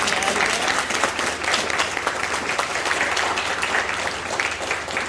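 A roomful of people at a county school board meeting applauds Daphne with dense, continuous clapping that stays loud and even for several seconds, without speech.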